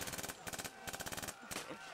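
Rapid bursts of automatic gunfire crackle in short volleys at a WW2 battle reenactment during a bunker assault, several loud sharp strings of shots separated by brief pauses.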